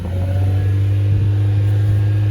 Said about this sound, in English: And if I take the revs up,